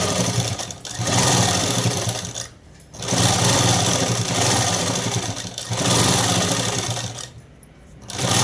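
A sewing machine stitches a shirt seam in three loud, steady runs of whirring with short pauses between them.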